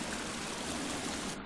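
Water in The Forest video game rushes loudly and continuously, a dense broadband stream roar filling the whole moment without pause.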